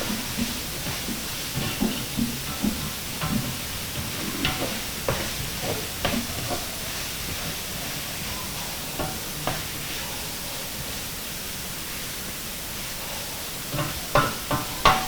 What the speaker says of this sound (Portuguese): Já está refogando